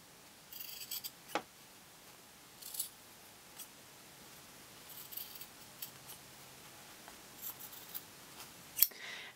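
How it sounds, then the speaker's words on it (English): Scissors snip small triangles from the fabric corners of a sewn change purse, giving quiet, close, scattered clicks of the blades with pauses between cuts. "what we're doing is just cutting some little triangles out"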